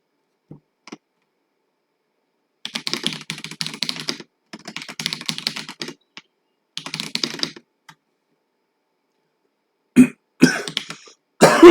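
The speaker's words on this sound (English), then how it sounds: "I'm so sorry about the cough." A few coughs and throat clearing near the end, loud and close, after stretches of quiet computer keyboard typing.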